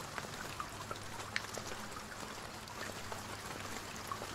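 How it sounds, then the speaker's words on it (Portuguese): Faint, steady video game rain patters continuously, with scattered drips standing out now and then; no voices. "Tá chovendo aqui dentro, né?"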